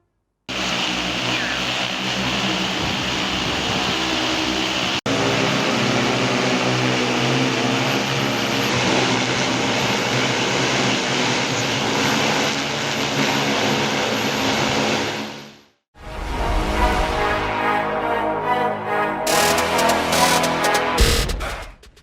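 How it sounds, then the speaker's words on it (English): A very large drone flying in Bahrain gives a loud, steady whirring drone like a helicopter's rotor hum for a long stretch, cuts out briefly, then resumes with rougher buzzing. "The drone is super massive and sounds almost like a helicopter"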